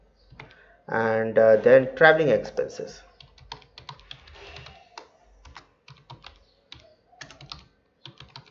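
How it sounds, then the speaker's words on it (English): Rapid keystrokes on a computer keyboard while entering data into an Excel spreadsheet, a burst of close, crisp clicks following brief speech and continuing in irregular clusters. "So I'll just type in grocery"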